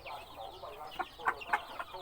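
Chickens at a Thai fighting-cock farm cluck in a quiet yard, short bursts of clucking rising a few times over soft background noise, fairly close and moderately loud, with no talk.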